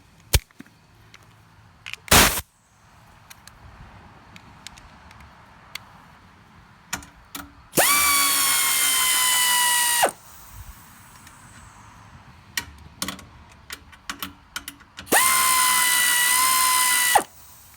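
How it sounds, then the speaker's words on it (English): A power drill on a Coleman Powermate generator whines in two sustained bursts of about two seconds each, close and loud, between scattered clicks and taps from handling the mounts. "second thing we're going to do is zap out the mounts"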